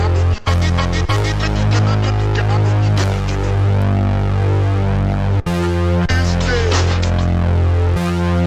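Heavily processed Analog Lab synth bass inside a beat, thick, distorted and droning loud and continuous, with brief dropouts and restarts every second or two.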